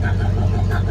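A truck engine idles in park with a steady, loud low rumble that holds even throughout, no change in pitch, heard close up and alone.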